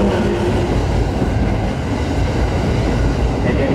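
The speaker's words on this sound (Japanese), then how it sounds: "今度1番線に参ります列車は各駅停車本納駅です" A JR 209 series local train rolling into platform 1 at Mobara station, a steady loud rumble of wheels and carriages with a faint squeal, no voices over it.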